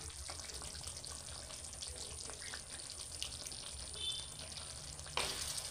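Pointed gourd being stirred with salt in a pan for potol korma, a steady soft frying sizzle running throughout with faint scraping, and a brief louder rustle near the end.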